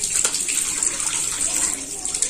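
Water splashes and runs continuously at close range as someone washes their face, a steady loud gush with no pauses.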